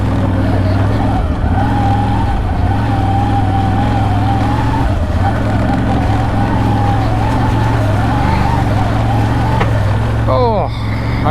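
An ATV engine drones loud and steady while driving over a rutted, bumpy dirt path with tire tracks. The tone wavers slightly, then dips and rises near the end as the wheels hit a deep rut.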